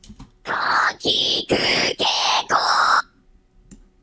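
Five short, harsh synthetic vocal fry screams made in OpenUtau come in a steady row, each gritty and raspy, then stop, leaving near silence.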